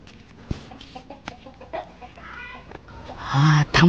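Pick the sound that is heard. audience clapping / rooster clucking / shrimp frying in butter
rooster clucking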